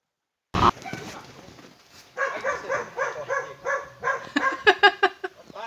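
A frightened dog barks in a series of repeated barks and yelps near a small stream beside a rural road in Minas Gerais, Brazil. A sharp thump comes first, then the barks grow louder toward the end, with no speech over them.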